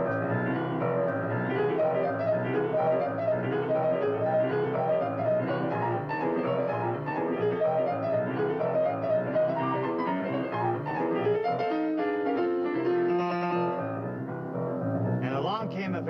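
Boogie woogie piano played with both hands, a busy rolling left-hand bass under right-hand figures, steady and fairly loud throughout with no voices.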